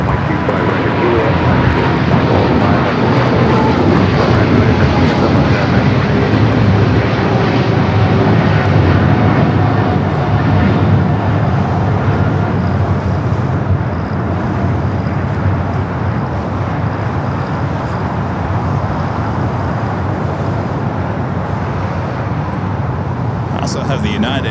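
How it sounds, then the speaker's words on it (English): A United A321neo airliner touches down at LAX with a loud, sustained jet engine roar that gradually fades, heard up close as ambient airport noise continues underneath. "Also have the United A321neo in the 100 years livery just touching down here on the south"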